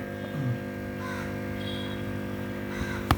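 Crows caw around a netted fish pond on a house rooftop terrace, fairly faint over a steady electrical hum, with no talking.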